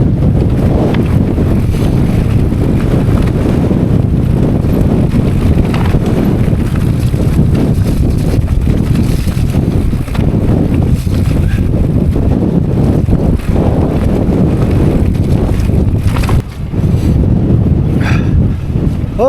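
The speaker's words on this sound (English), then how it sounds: "Oh, it's absolutely blowing a gale up here." Strong gale gusts roar steadily over a microphone on an exposed hilltop during a bike ride, a dense low buffeting rush that stays loud and continuous for the whole stretch with no pauses.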